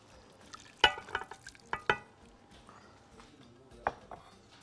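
Minced meat and rice being stirred in a pot as broth goes in, with a few soft scrapes and clinks of a spoon against the pot, faint and sparse over quiet background.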